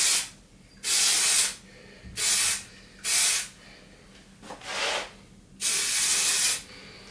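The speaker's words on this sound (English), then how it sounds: "Then once I'm done, I will just finish with spray." Hairspray sprayed onto short-to-medium textured curly hair, five or six loud hissing bursts of about a second each with brief pauses between, close up and with no talking.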